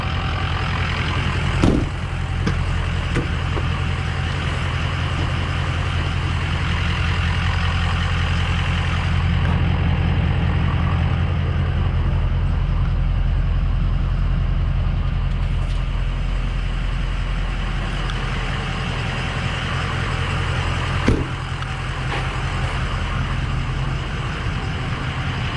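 A 2003 Ford F350 diesel truck on a drive, heard from inside as a steady, loud engine drone with constant road rumble and a couple of brief knocks.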